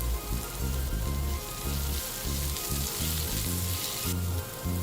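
Onions, ginger garlic paste and curry leaves frying together in a pan for Indian fish roast masala, a steady loud sizzle and crackle with a rhythmic low thumping underneath, no talk.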